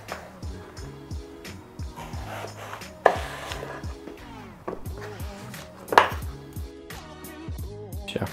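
Repeated knife strokes chopping through eggplant on a board, a steady rhythm of close cuts with a couple of sharper knocks.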